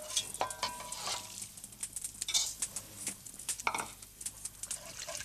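Tripe going into a pot over a wood fire for a Breton stew, heard close as soft stirring, scraping and sizzling with intermittent clinks and pattering, quiet and uneven.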